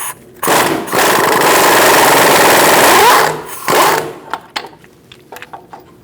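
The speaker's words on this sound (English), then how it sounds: "I'm going to use my impact gun to loosen it up" An impact gun with a 21mm socket loosening the top outer tie rod nut on a 2004-2012 Chevrolet Colorado, one loud rattling hammering burst of about three seconds, very close, then a short follow-up burst and light clinks of handling.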